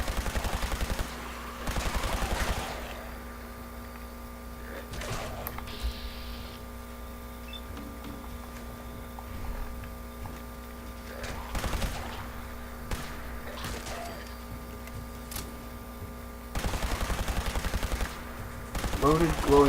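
Automatic gunfire from the video game Fallout 4 comes in several short, loud rapid bursts, separated by quieter stretches of steady game hum and ambience.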